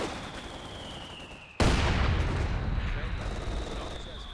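Mortar fire in Company of Heroes 2 lands as a sudden loud boom, followed by a rumbling, gradually fading blast over continuous battle noise.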